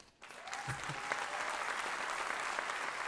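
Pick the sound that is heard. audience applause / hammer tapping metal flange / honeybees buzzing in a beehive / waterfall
audience applause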